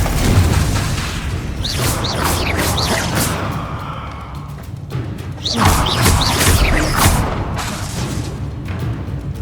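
Fiery spell blasts from the Confringo curse in Hogwarts Legacy, a series of booming explosive impacts and swooshes amid combat clatter, loud and close with no talk.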